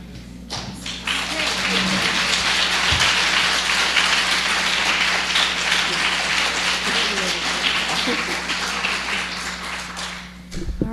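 An audience at a public forum applauds its panelists, dense sustained clapping filling the room at full volume for several seconds before tapering off at the end.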